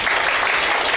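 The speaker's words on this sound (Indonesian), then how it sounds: "Tepuk tangan, pakai tepuk tangan." A crowd claps steadily, a dense continuous burst of applause filling the whole moment with no pauses.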